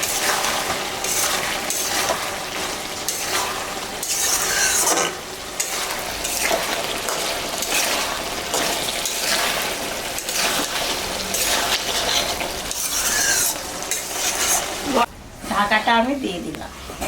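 A vegetable curry of pointed gourd stems and eggplant frying in a pan, stirred with scraping utensil strokes and loud sizzling, with a splash as a little water is added; someone talks over it throughout.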